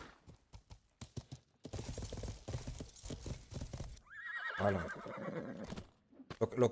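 In Life is Feudal a horse clip-clops in quick close hoofbeats, then lets out a loud, clear neigh, and the hooves keep sounding after it.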